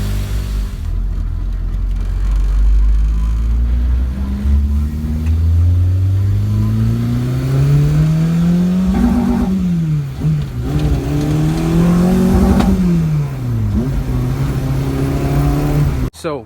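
K20 supercharged wagon with a full 3-inch exhaust pulling away and accelerating, the engine note climbing through the gears with rises and dips, loud and close from start to finish.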